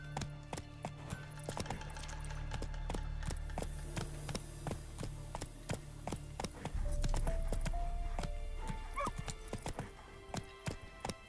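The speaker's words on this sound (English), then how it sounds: "Is it similar to riding a horse like in this game?" Hooves clip-clopping at a steady gallop while riding a horse in the fantasy video game The Witcher 3: Wild Hunt, a rhythmic thudding over game music and ambient background, occasionally quickening.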